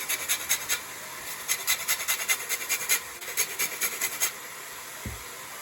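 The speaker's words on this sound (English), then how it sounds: "next we're going to add some lime zest" Lime being zested on a grater for Thai red curry, heard as a quick series of dry, raspy scraping strokes in an uneven rhythm, close and fairly quiet, followed by a brief low knock near the end.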